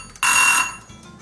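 Kitchen timer rings once after five minutes of cooking prawns in sauce, a short, bright electronic beep burst lasting about half a second, close and clear against a quiet kitchen.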